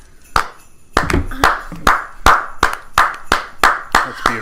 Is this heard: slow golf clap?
yes